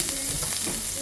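Ginger sautéing in a hot pan for fish sweet and sour, a steady close sizzle and frying crackle with no talk.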